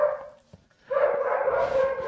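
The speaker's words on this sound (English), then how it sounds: "Sorry for the dog barking again." A dog barks nearby, a short yelp followed by a longer run of barking and whining, with no one speaking.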